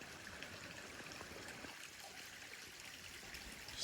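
Sugar Creek on the Appalachian Trail gives off a soft, continuous trickle of running water, faint and steady, with no voices over it.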